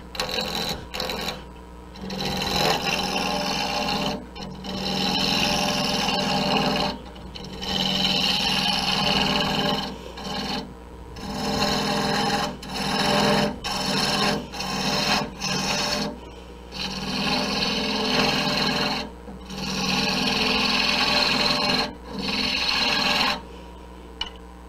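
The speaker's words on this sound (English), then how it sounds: "You can even turn your tool sideways and do some like shearing cuts" A woodturning tool turned sideways makes shearing, slicing cuts on a spinning wooden piece while shaping gnomes, producing loud, repeated raspy scraping passes a few seconds long with short pauses between them.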